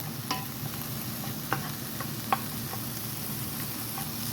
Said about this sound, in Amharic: እንደዚህ እያደረግን ሽንኩርታችንን ትንሽ ከለሩ ቀየር እስካለ ድረስ እንጀምራለን ማለት ነው።